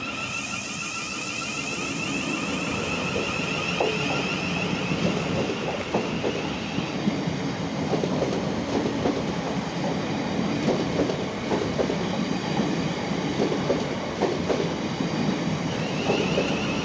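A Class 700 electric train pulls out of Sevenoaks station bound for London Blackfriars, with a steady loud rumble, clickety-clack of wheels over rail joints and a faint high whine building throughout.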